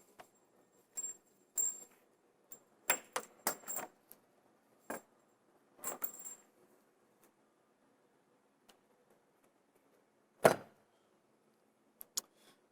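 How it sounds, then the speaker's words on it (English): An in-counter beer dispenser being lowered into a cut opening in a keg cooler countertop, giving scattered clicks, taps and knocks of metal and plastic in short clusters, with a single louder knock near the end and quiet pauses between. "now we're going to drop in our in-counter dispenser and see if it fits"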